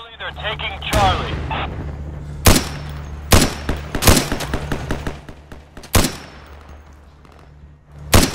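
Gunfire in the video game Insurgency: several loud, sharp rifle shots spaced irregularly across the scene, each with a booming tail, over a low steady hum.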